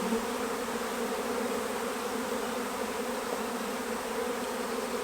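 Honey bees buzz in a dense, steady drone around an open brood box during a hive inspection for queen rearing, a close, continuous hum with no talk.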